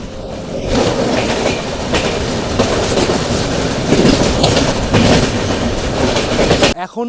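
Darjeeling Mail passenger train running on rails, a loud continuous rumble with rhythmic clickety-clack of wheels over rail joints, steady throughout before cutting off at the end.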